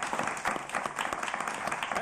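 Short burst of town hall audience clapping in answer to a poll question, brief and fairly dense, with some murmuring underneath.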